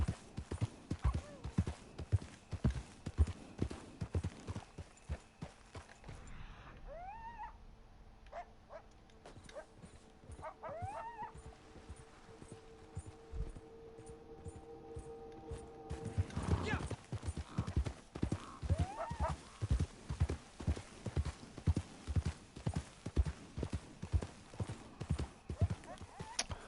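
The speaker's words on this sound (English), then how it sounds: "They're horses." Horse hooves clip-clop in a steady, rapid rhythm in the Red Dead Online video game, loud in the foreground, with a brief pause midway where higher whinny-like calls sound before the hoofbeats resume.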